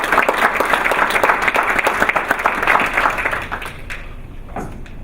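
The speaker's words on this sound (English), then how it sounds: "So let's give them another round of applause." A round of applause from attendees at a school board meeting, brisk clapping that gradually thins and fades toward the end.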